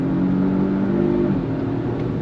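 A 2024 Volvo V60 Polestar accelerating on throttle, its engine giving a steady, close, loud drone that holds through the clip and rises only slightly, with no talking over it.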